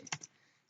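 A few quick keystrokes on a computer keyboard as a search term is typed into store reporting software, close and soft, then a quiet tail.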